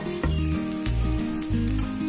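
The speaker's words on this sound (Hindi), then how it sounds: "मसालों के साथ हम इसे फिर से 2 मिनट सॉटे करेंगे" Mashed potato sautéing with garam masala and spices in a hot pan, a steady loud sizzle punctuated by several rhythmic scraping strokes of a spatula, no voices.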